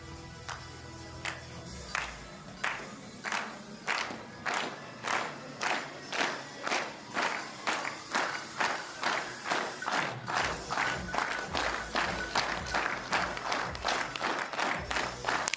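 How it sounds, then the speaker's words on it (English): Rhythmic clapping from spectators at a men's 10m air rifle final in Hamar, Norway, steady and moderately loud, the crowd keeping time together with a few thumps and shouts mixed in. "Clapping, perhaps not at its loudest, but certainly enjoying this"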